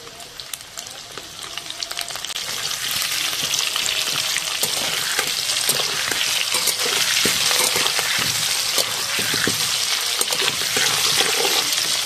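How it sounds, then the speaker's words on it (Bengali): Potatoes with a little turmeric frying in oil in a pan for biryani, a soft start building after two seconds into a steady, loud, continuous sizzle that carries on without pause. "আলুগুলো ভেজে নেব। অল্প করে হলুদ দিয়ে দেবো।"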